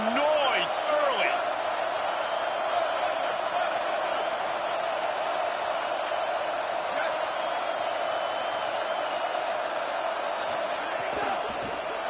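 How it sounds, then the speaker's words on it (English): A stadium crowd at a football game keeps up a dense, steady roar with occasional whoops, filling the background while a commentator talks over it. "This crowd bringing the energy and noise early."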